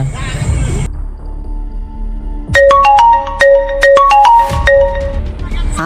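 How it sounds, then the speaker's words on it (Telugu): A phone ringtone for an incoming call plays as a bright, repeating melodic tune of short electronic tones, loud and close, starting after a brief stretch of talk and background noise. "మా నాన్న ఫోన్ చేశాడు"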